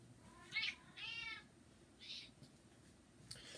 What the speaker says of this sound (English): here's my cat, April.